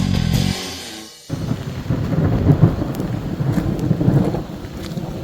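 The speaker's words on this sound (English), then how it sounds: "Alright, here we are. In a thunderstorm." A thunderstorm caught while on a motorcycle tour: a loud rolling thunderclap opens, then cuts to heavy rain and rumbling, with gusty wind buffeting the microphone.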